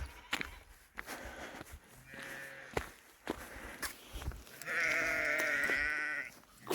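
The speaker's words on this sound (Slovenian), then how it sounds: "Te ovce tle me kličejo neki skozi" Sheep on a rural walking route bleat several times nearby, the last call long and loud, amid footsteps and other soft movement sounds.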